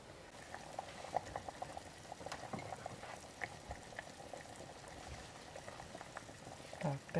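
Hungarian bean soup bubbles in a pot in a village kitchen, a soft, steady boil with small popping bubbles throughout, quiet and close, with no voices.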